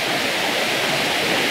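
Rushing water pours steadily at a water garden, a loud continuous broadband roar like a close waterfall with no breaks and no voices.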